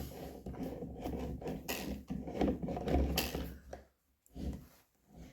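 Plastic head threaded onto a Wild Badger string trimmer, heard as close ratcheting clicks and scraping turns in quick bursts, with a brief pause before a few final clicks.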